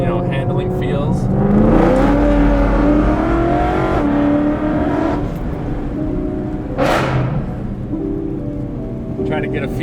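A BMW E9X M3 drives on a test track, its engine revving and shifting through rising and falling pulls with rushing road and wind noise, while someone talks over it.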